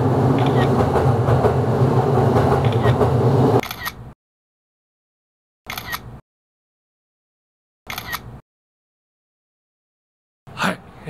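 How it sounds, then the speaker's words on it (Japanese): A loud, close train rumbles past for a few seconds in Uguisudani, Tokyo, and then cuts off abruptly, leaving near silence broken by a few short clicking bursts. "電車よく通るねここね。"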